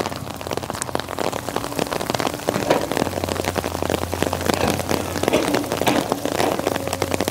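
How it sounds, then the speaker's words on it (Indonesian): Heavy, steady rain pours down near a low riverbank levee, a dense continuous patter of drops on surfaces close by and loud throughout, with a low mechanical hum running underneath for part of it. "semakin hujan deras teman-teman"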